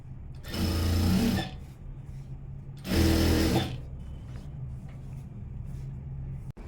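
A sewing machine stitches a saree in two steady whirring bursts of about a second each, separated by a pause with light handling sounds, close and clear with no talk.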